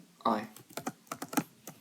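Fingers type on a computer keyboard in a short burst of a dozen or so crisp, uneven clicks and taps, close to the microphone in a quiet room.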